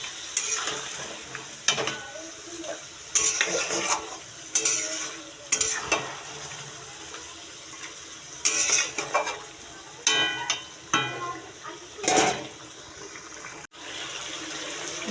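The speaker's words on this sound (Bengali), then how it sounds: "ভালো করে নাড়িয়ে ভালো করে কষিয়ে নেব।" Mutton stirred and fried in a pan for biryani, bursts of loud sizzling and scraping as the meat is turned, separated by quieter simmering gaps.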